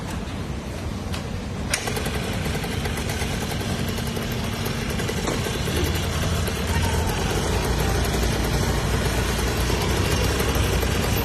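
A rickshaw fitted with a motorbike engine idles nearby at a petrol pump, giving a steady rough rumble over busy background noise, with a click early on.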